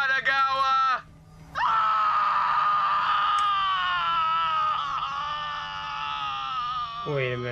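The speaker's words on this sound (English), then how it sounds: "they always scream after you blow their head off" Enemy in the video game Borderlands 3 screaming after its head is blown off: a loud, harmonic, sustained wail, briefly cut by a short gap, then one long drawn-out scream that sags in pitch before a final rising cry.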